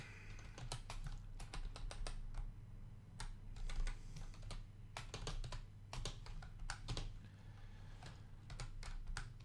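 Steady computer keyboard typing in irregular bursts of sharp clicks over a constant low hum, moderately close, with no voices.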